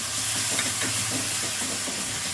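Spice paste with charmagaj (melon seed) paste being fried for a fish curry over low to medium flame, a dense loud hissing sizzle that never lets up, with faint stirring scrapes underneath.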